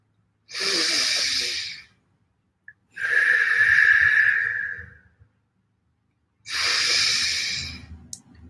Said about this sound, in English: So we'll do nice and strong breaths.